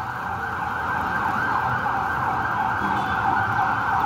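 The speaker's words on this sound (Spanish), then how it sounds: "por ahí hay una ambulancia que creo que acaba de salir de la compañía de bomberos" An ambulance siren wails steadily and loudly over low street traffic rumble at Plaza San Martín in Lima, continuous throughout with no talking.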